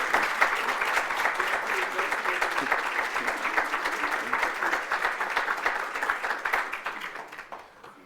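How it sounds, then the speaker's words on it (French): Conference audience at a 2015 insurance gathering breaks into applause, a full, even clatter of many hands heard from within the room, holding for several seconds before tapering off near the end. "je vais vous demander humblement de l'applaudir."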